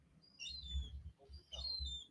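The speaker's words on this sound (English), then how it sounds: "We've got the little bird. It's making a complete racket." A small bird chirps in short bursts of high, thin calls, fairly loud and repeated, with a low rumbling background underneath.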